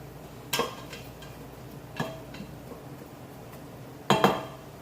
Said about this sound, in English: And give everybody, both of these, a little stir.